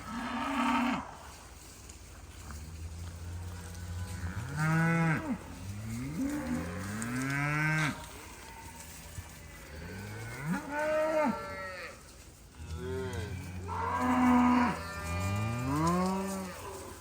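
Cattle on a farm moo repeatedly, several long, drawn-out bellows rising and falling one after another at close range, with a steady outdoor background.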